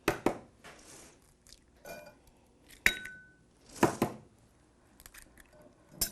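Four eggs cracked into a bowl for custard in a home kitchen, a series of sharp clinks and taps of shell against the bowl's rim spaced a second or so apart, with quiet pauses between.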